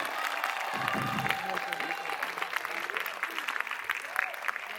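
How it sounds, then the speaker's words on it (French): Applause and cheering from an audience at a Brussels film event in 2025, steady dense clapping filling the whole stretch at moderate loudness, with a high whistle or cheer near the start. "je vous demande un tonnerre d'applaudissements"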